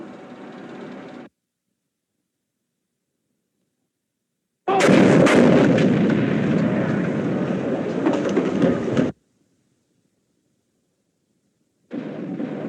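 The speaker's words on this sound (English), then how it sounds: "Bombs!" Bombs exploding during a naval battle in a 1950s war film, heard as loud, roaring bursts separated by stretches of silence, with one long heavy rumble at the centre.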